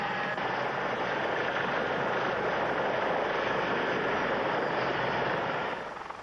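A C-141 transport aircraft gives off a steady, dense roar of engine noise with no breaks, loud and unchanging, then eases slightly at the very end.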